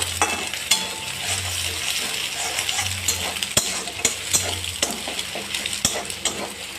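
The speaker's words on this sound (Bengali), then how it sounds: "এইখানে আমি একটা ডিম দিয়ে দিলাম ডিমটা এর সঙ্গে ভালো করে ভাজা ভাজা হয়ে যায়" An egg fries in a pan of spiced mix for egg ghugni, a steady close sizzle with scraping stirs and the clink of a utensil against the pan throughout.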